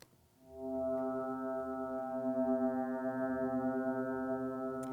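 Vintage 1982-style digital FM synthesis tone with formants tuned to a chord and a relatively high fundamental, a sustained buzzy organ-like drone swelling in and holding steady with slight wavering.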